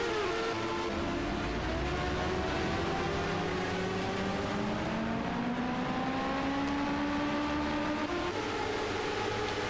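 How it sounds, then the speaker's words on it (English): Champ Car race cars pulling out of the pit lane together at Monza, a steady engine drone with rising and falling pitch as they accelerate, continuous and moderately loud. "81 on the 25, leaving pit lane together"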